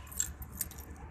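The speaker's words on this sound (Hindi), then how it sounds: "तो गाड़ी में चाबी लगाते तुरंत" A brief, faint jingle of car keys close by as they are pushed into the ignition, with a couple of light metallic clinks.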